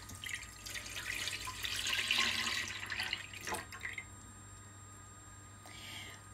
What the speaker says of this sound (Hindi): ये मैं इसके अंदर 1 लीटर दूध डालने लगी हूँ